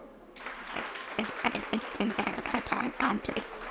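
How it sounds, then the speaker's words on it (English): Audience applause in a college seminar hall on studying abroad, dense scattered hand claps building from near silence and holding steady for several seconds, with some voices mixed in. "At least for these people, please clap for."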